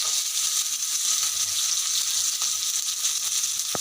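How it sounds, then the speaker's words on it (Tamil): Onions and curry leaves go into hot oil where mustard seeds and cumin have already popped, producing a loud, steady frying sizzle that hisses evenly throughout, with no talking. "வெங்காயம் கருவேப்பிலை சேர்த்து போட்டுடலாம்"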